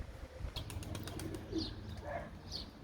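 Tumbler pigeons coo softly in short, repeated calls after flying, over a low background rumble, with a few faint chirps and wing sounds.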